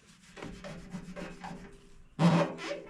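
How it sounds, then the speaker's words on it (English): Cloth or hand rubbing and wiping the gasket surface of a small generator's fuel tank, soft scratchy strokes close up, ending in a louder brisk rub. "now I'm just going to wipe the surface where the gasket goes"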